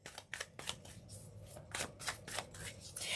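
Tarot cards being shuffled by hand, with a quick series of papery riffles and flutters in uneven bursts, close and fairly quiet, growing into a louder rustle at the end.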